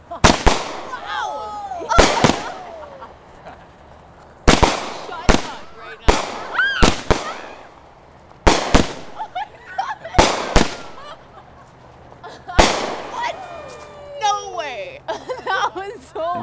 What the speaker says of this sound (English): We set a firework.